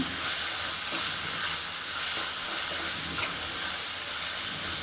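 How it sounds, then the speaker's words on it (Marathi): Tomatoes and coriander frying in a hot tadka for a ghevda vegetable dish, giving a steady, close sizzle and crackle with faint stirring throughout. "टोमॅटोला पण व्यवस्थित याच्यामध्ये भाजून घ्यायचे."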